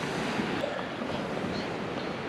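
Ocean waves washing onto a beach in Thailand, a steady broadband roar with wind noise on the microphone, continuous and fairly loud throughout.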